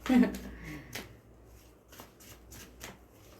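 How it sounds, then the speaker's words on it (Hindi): Tarot cards being shuffled by hand, with a burst of riffling at the start followed by softer intermittent flicks and taps, close and fairly quiet. "इतना प्रॉब्लम क्यों हो रहा है शफल करने में आज?"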